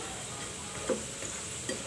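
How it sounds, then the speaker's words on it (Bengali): Quiet, steady sizzle of cauliflower-leaf fritters frying in oil, with a couple of soft clicks from a utensil. "দেখুন কত সুন্দর পেঁয়াজু ভাজানো হয়ে গেছে ফুলকপির পাতার পেঁয়াজু"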